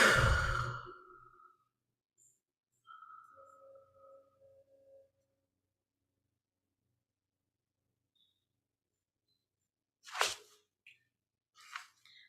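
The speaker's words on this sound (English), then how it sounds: "allow our exhalation to be a real letting go kind of breath" A deep, slow exhaling breath of release during a guided meditation, close and soft, followed by a faint pause and then quieter breaths and small sounds later on.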